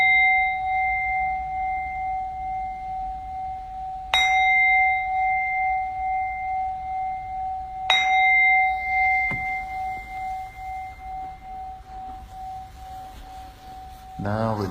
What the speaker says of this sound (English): So I will ring the bell,